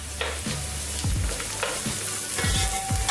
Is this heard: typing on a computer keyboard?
no